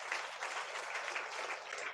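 A church congregation at a Sunday meeting applauds loudly, a dense continuous wash of many hands clapping together without pause.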